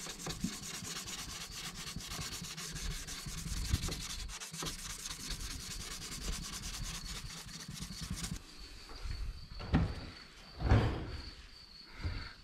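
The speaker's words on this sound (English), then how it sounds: "This is the sanding block they provide, and then you wet sand it." Headlight lens being wet sanded with the sanding block from a Turtle Wax restoration kit, a continuous rapid back-and-forth scrubbing rasp that eases into softer, slower wet rubs and a few bumps toward the end.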